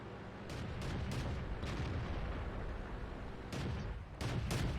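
Repeated heavy tank cannon blasts in World of Tanks, a T-82 shelling a city, several sharp booming shots spaced irregularly over a continuous rumbling battle background.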